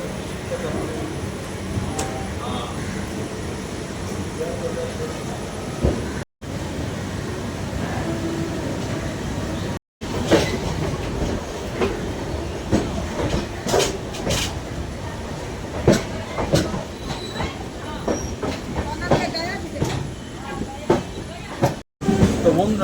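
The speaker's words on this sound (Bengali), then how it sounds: "আমাদের বর্তমানে ট্রেনটি এখন ছেড়ে দিল" The Howrah Intercity Express (13012) rumbles along steadily after departing, wheels clacking and carriage rattling, with a few brief dropouts and sharp clicks over the continuous rolling noise.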